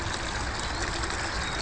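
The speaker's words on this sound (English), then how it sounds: "what's interesting is that water's coming down constantly" Water pouring down constantly from a campsite waterfall beside a ruined house, a steady close rushing and splashing roar that fills the short moment without any voices.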